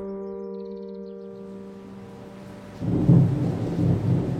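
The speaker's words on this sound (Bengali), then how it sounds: "সেদিন রাতে প্রচণ্ড বৃষ্টি। ঘরের মধ্যে বসে ওরা অবিরাম ঝড় জলের শব্দ শুনতে পাচ্ছে।" A thunderstorm with heavy rain as a drama sound effect: a sustained musical tone fades out, then deep thunder rumbles in loudly over a wash of rain.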